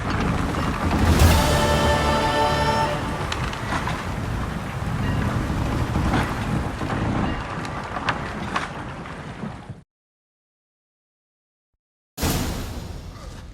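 A ship setting sail in the Witcher 3: Wild Hunt video game, with a steady loud wash of wind, water and creaking, rumbling sea ambience that cuts to silence for a few seconds before resuming.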